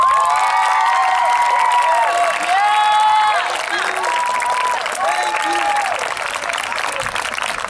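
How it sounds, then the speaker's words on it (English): A graduation audience applauds and cheers for the teachers, steady loud clapping mixed with whoops and excited shouting voices, including children's, throughout. "let's give your teachers, all of your teachers, not just the 8th grade teachers, but all of your teachers a big round of applause"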